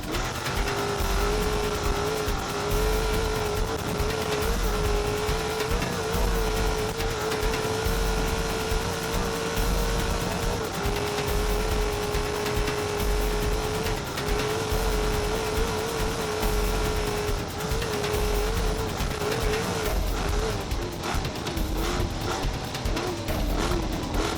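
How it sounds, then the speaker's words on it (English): A Ford F-150 truck racing flat out in the Finke Desert Race near Alice Springs, its engine roaring loud and steady, with a sustained revving drone throughout and no talk. "going toe-to-toe with the Finke and showing his Ford F-150 truck absolutely no mercy"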